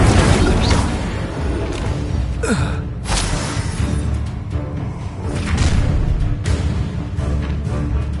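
An Incendio fire spell in the game Hogwarts Legacy erupts in a loud, roaring whoosh of flame with rumbling bursts that carries on without letting up.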